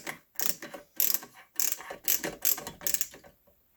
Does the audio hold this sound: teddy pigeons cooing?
no